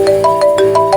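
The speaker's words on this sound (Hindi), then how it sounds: "फोन आया।" A phone ringtone sounding alone, a repeating electronic tone in short pulsed bursts, clear and close.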